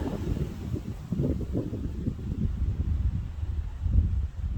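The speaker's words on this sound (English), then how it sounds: "Listen to that wind." Steady wind blows across a lake campsite at Lake Mineral Wells State Park, a low continuous rumble buffeting the microphone and swelling in gusts throughout.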